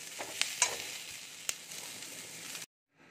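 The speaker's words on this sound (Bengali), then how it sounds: "এরকমই হালকা করে এটাকে ভেজে নেব" Steady sizzle of spices frying in oil with a few sharp clinks of a spoon stirring a pan, then it cuts to silence.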